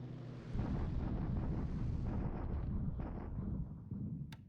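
Night bombing explosions in War in the Pacific, a dense, low rumbling roar that swells in after a brief lull and rolls steadily before fading, with a faint sharp click near the end.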